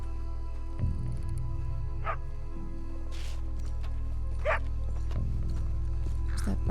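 A dog barks in a video game set in a cemetery, with a few sharp, fairly distant barks spaced out over a low droning background, with no talking.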